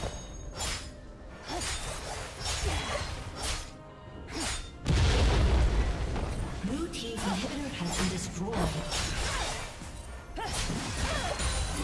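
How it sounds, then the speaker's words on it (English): A turret in League of Legends breaks apart with a heavy crashing smash and shattering debris in the middle of a top-lane Riven versus Darius fight, surrounded by whooshing ability effects and an announcer voice speaking. "Team's turret has been destroyed."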